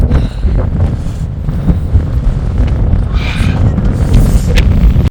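Strong wind at Sela Pass, Arunachal, a high mountain pass above a large lake, buffets the microphone in a loud, continuous low rumble with gusts that swell and ease.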